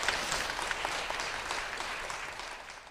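A church congregation applauds to welcome a speaker forward during a testimony service, producing a steady, even wash of clapping that continues throughout with no talking.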